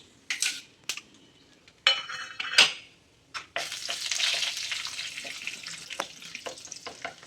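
Chana dal and urad dal drop into hot oil with mustard seeds, giving sharp clinks and scrapes of a utensil against the pan. A soft crackling sizzle follows and holds for several seconds.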